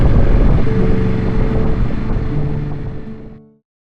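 A loud, steady motorcycle engine drone with a low rumble and wind buffeting, holding for a few seconds and then cutting off abruptly.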